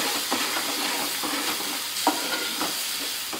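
A spoon stirs masala paste for a Karli fish curry in a hot pan, with a steady frying sizzle and a few sharp scraping strokes against the metal repeating close by.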